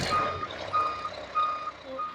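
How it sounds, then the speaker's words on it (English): A stuck concrete truck sounds loud, repeated reversing beeps in an even rhythm at a winter construction site, with engine rumble underneath. "the concrete truck came and it is stuck"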